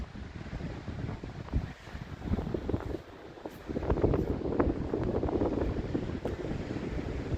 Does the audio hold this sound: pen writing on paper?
no